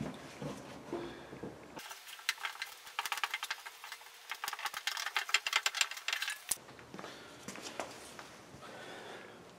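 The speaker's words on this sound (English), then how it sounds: "Body hammer." Body hammer tapping a sheet-metal car body panel during repair, a quick series of light, uneven metallic taps, close and fairly quiet.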